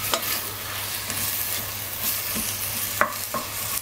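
Onions frying in olive oil in a pot are stirred, with a steady low sizzle and several scraping clicks of the spoon against the pot, close and moderately loud, with no voices.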